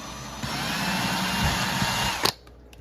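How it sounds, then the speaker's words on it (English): A close, loud electric drill with a small bit runs continuously as it bores a pilot hole in a 1/14 scale model truck, ending with a sharp clatter and then near silence. "I'm gonna start with a small drill bit and do a pilot hole right here"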